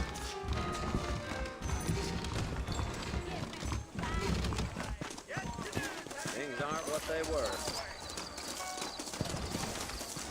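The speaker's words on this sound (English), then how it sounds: "I got the horses saddled up and ready out front" Horse hooves clip-clop in a steady, rhythmic walk in the Red Dead Redemption video game, with birds chirping faintly around them while voices talk throughout.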